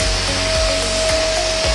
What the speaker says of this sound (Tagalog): pag binoblower nila yung dog, ganito ang ginagawa